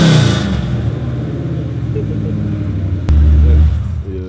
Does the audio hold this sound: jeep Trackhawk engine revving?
yes